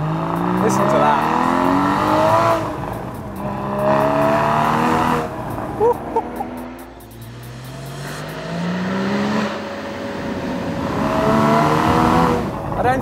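A Porsche Boxster Spyder engine revs hard in a series of rising and falling sweeps, loud and close, with a speaking voice over parts of it.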